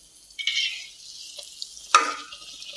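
Rice cake pitha frying in hot oil, a steady hiss and sizzle that swells briefly, with a sharper crackling burst near the end as more batter goes in.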